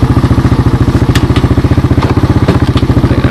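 A 1986 Honda TRX200SX ATV engine running loud and close while being ridden and shifted, a fast, even thumping exhaust pulse with a few clanks and clicks over it.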